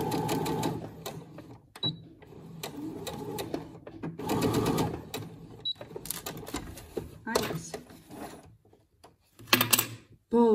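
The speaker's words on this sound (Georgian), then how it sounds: "კერვას ვასრულებთ წინ და უკან სვლით." A sewing machine stitching forward and then in reverse, running in short whirring bursts separated by pauses, with a person talking in between the runs.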